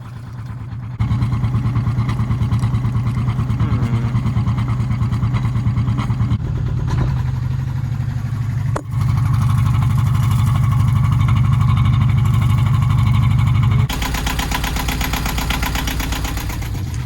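Sailboat engine running after an exhaust elbow repair, a loud, steady mid-pitched drone with a rhythmic chug, a brief dip partway through and a brighter, rougher tone toward the end.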